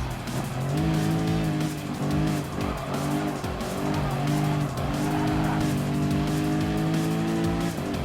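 Race car in Gran Turismo Sport driving a Lexus RC F, loud steady engine drone with tire squeal and skidding as it brakes hard into a corner, continuous and close throughout.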